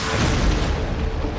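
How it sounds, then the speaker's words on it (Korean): Inside an office, an explosion fills the clip with a loud, dense roar of broadband rumble that holds steady without a break. "그런 곳에서 왜 폭발이 있었던 걸까요?"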